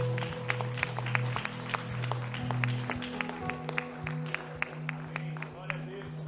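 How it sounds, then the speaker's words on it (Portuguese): A church congregation claps in a steady rhythm along with sustained instrumental music, a string of sharp, regular claps over the held tones. "Se você crê, aplauda o Senhor."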